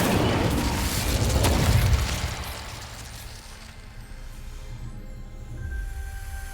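A burst of fire from the Incendio spell in Hogwarts Legacy erupts loudly in the opening two seconds as a broad whoosh, then fades into a lower, steady rumble of flame and ambience.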